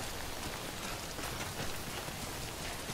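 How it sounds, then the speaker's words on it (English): Timefall rain from the video game Death Stranding pours steadily, a dense, even hiss of drops on surfaces that stays loud and unbroken throughout, with no voices over it. "Don't stay out in the rain any longer than you have to."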